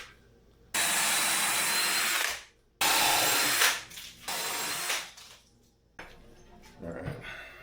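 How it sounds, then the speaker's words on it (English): A power drill whines loudly in several bursts, drilling 3/8-inch holes for a Saxon bar grip rig, stopping and starting between holes, with a brief quieter pause and handling noise at the end. "I'm going to be drilling at least my side holes with the 3/8"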